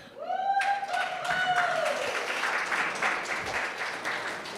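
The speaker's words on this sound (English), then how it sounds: "Biased part of the room cheering for you as you come up." An audience at an athletics press conference bursts into applause, preceded by a rising whoop; dense clapping continues steadily at moderate volume, with a few scattered cheers.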